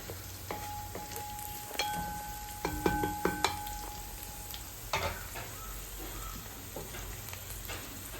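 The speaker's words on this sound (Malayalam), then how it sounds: "ഇഞ്ചിയും വെളുത്തുള്ളിയും പച്ചമുളകും നല്ലപോലെ മൂത്ത് കഴിഞ്ഞത്" Ginger, garlic and green chillies fry in hot oil for a sun-dried bilimbi pickle, a steady close sizzle with scattered metallic stirring clinks and scrapes.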